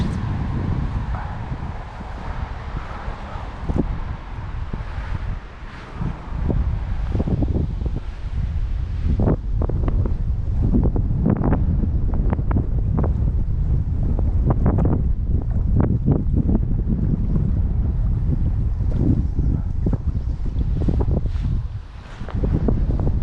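Strong wind buffets the microphone during salmon fishing at night, a loud continuous roar with gusty rumbling bursts and crackling flutter throughout, with no talk.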